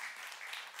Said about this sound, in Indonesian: siapa yang mau tepuk tangan buat Tuhan Yesus?